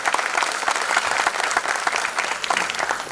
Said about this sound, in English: with a big round of applause for her too